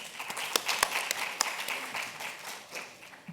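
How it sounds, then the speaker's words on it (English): An audience at an investment summit applauds steadily, a dense patter of many hands clapping with a few sharper claps standing out, fairly close. "Another round of applause to the panelists."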